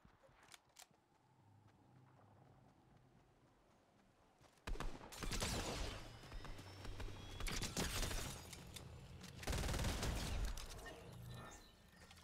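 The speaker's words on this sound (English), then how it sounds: "Oh god, I hear gunshots." Fortnite gunfire erupts after a few faint clicks, rapid loud bursts of shots and battle noise rolling on for several seconds before easing slightly.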